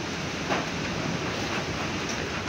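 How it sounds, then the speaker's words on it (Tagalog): Strong typhoon wind roars steadily outside a house, a dense, constant broadband rush with light rain, no voices present. "Ayan po, ang lakas po ng hangin."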